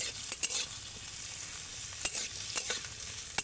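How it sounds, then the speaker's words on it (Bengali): Chopped onion frying in white oil in a wok, a close, continuous sizzle broken by sharp scraping stirs of a spatula at irregular intervals. "পেঁয়াজটাকে ভেজে নেব"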